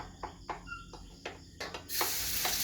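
Garlic going into a hot pan for a pork-liver igado: a few sharp clicks and taps from the pan, then a sudden loud, steady sizzle that holds to the end, near and with no talk.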